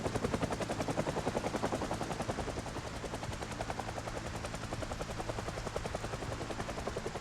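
A helicopter hovers overhead in the video game Project Zomboid, its rotor chopping in a fast, steady, loud pulse that fills the whole stretch without talk.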